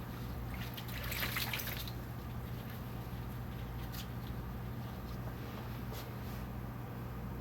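Water trickles steadily from a rinse cloth into a basin during perineal care, a soft continuous wash of liquid with a brief louder splash near the start and no voices.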